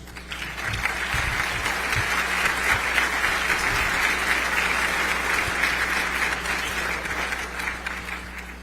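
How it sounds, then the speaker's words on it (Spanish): Sustained audience applause fills a forum hall in Mexico as a closing message is welcomed, a dense steady wash of many hands clapping at even loudness throughout, with a constant low hum beneath. "Lo recibimos con un fuerte aplauso."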